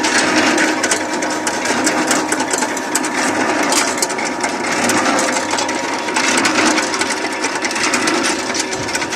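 A chaff cutter shreds pruned fruit tree branches, including apricot wood, with a loud, steady mechanical chatter and continuous crunching of splintering twigs that runs through the whole stretch.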